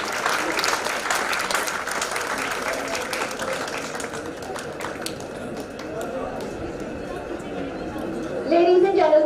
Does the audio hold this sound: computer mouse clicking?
no